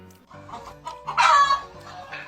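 A chicken clucks and cackles in a quick, busy run of calls that swells louder near the middle, heard close and with no talking.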